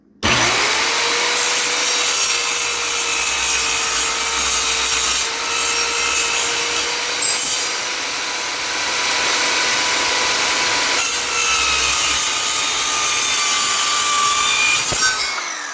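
An Evolution R185ccs metal-cutting circular saw bites through thick aluminum, whining loudly and continuously with a slight pitch sag under load, then spins down abruptly at the end.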